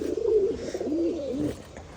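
Pigeons coo nearby in a cold, windy morning, soft throaty rolling calls repeating over one another for a couple of seconds.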